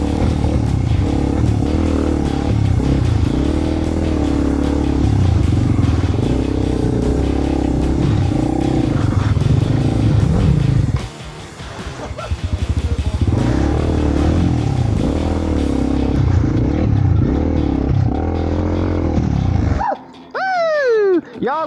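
Honda CRF300L motorcycle engine revving hard off-road in thick mud, loud and close with surging throttle blips and a brief dip midway, ending in quieter rustling as the engine drops away, with a rider talking.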